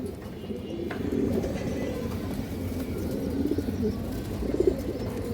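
A female Palla-line pigeon coos softly in low repeated rolling notes, with faint chirps from other birds in the background and no talking.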